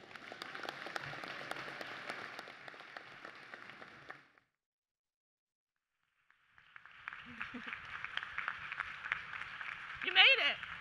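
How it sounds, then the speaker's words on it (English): Audience applause greeting the new state superintendent, Mohammed Choudhury, at a teachers' association gathering: a dense, sustained burst of clapping, a short silent pause, then a second round of applause with a voice rising briefly near the end. "let's give a round of applause to our new state superintendent, Mohammed Choudhury"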